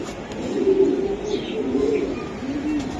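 Racing pigeon chicks cooing nearby in a low, repeated throaty rhythm, with soft chirps faintly above.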